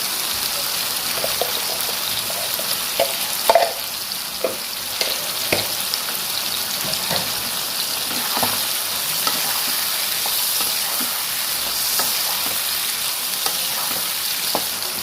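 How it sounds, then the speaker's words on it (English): A mushroom dish with chili powder and chili sauce frying in a pan gives a steady, close sizzle, broken by scattered clicks and taps of stirring throughout. "Fry it for 5 minutes at least, and then give potato."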